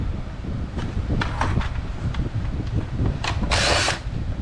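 A power drill backs screws out of a Sherwood receiver's front panel in short whirring bursts, near and fairly loud, with a brighter hiss near the end.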